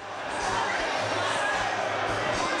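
A packed home crowd at a Kentucky ice hockey game roars in a steady wall of cheering and noise in the arena, loud and continuous, with a commentator talking over it.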